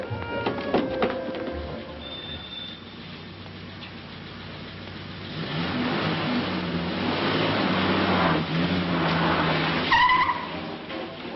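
A car pulls away with the engine revving up and tires briefly squealing, growing louder as it accelerates in an old film soundtrack before easing off at the end.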